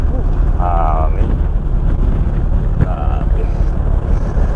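Strong wind buffets the microphone on the deck of the passenger ship 2GO St. Therese off Lobo, Batangas, a constant rushing roar with a low engine rumble beneath and a few brief tonal squeaks.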